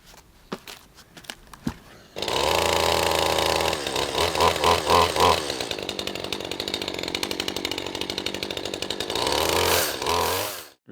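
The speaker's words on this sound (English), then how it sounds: "I'm gonna test this chain. I'll do it behind the barn because Odin is sleeping" Chainsaw with a freshly sharpened chain test-cutting wood behind a barn, starting after a few light knocks and running loud and steady for about eight seconds with the pitch dipping under load, then revving before it stops.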